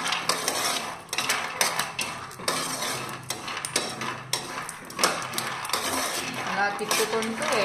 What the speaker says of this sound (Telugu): పల్లీలు బాగా వేగిన తర్వాత స్లోగా పెట్టాను, సిమ్లో పెట్టాను